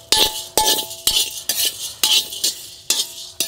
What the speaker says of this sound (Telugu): ఇప్పుడు శనగపప్పు వేసుకుని 2 నిమిషాలు వేయించుకోవాలి